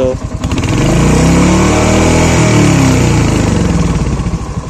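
A Royal Enfield Hunter 350 motorcycle engine revs hard and climbs steadily through the gears, its loud, close drone rising in pitch with brief dips at each shift.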